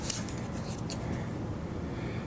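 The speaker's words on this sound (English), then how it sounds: "grab a pair of scissors" Scissors snipping through quilt fabric and batting, a steady close rustling crunch of blades with no voices.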